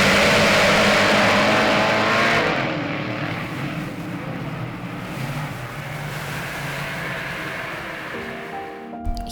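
Race cars roar at the start of a 20-lap speedway race, a loud, dense wash of engines that swells at first, then settles into a sustained drone, with a short burst near the end.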